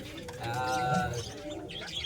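Soft pigeon cooing, a brief throaty call in the middle of a quiet background, fairly faint, at a pigeon shop in Khulna Barabazar market.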